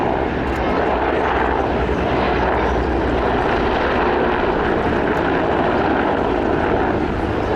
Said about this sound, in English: The Mi-171 we see here is the latest export variant of that